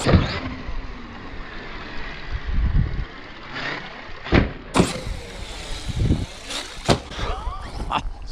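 A Traxxas Sledge 6S RC monster truck on Pro-Line MX38 belted tires drives in bursts, its electric motor whining up and down in short repeated surges with tire and chassis noise, fairly close, with no talk.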